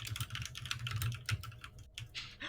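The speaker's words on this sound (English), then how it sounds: "I hear someone Um. fiercely typing over there." Rapid, forceful typing on a computer keyboard during a Call of Cthulhu tabletop session, a dense run of sharp clicking keystrokes with brief pauses, close and clear with no talking.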